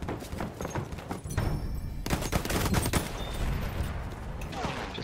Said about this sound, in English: Got bombed again at B.